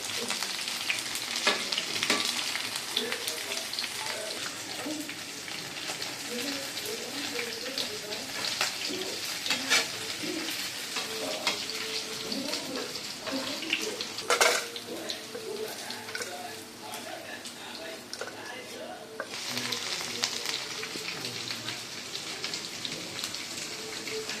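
Ivy gourd (kovakkai) frying in a pan, a steady dense sizzle running throughout with scattered stirring scrapes and a few sharper crackles, close and fairly loud.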